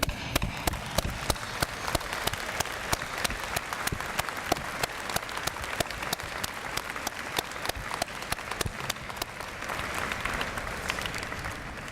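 Graduates at a university science convocation ceremony applaud their families in a large hall, with sustained crowd clapping and sharp individual claps standing out, continuous from start to finish.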